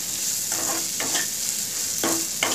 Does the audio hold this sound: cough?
no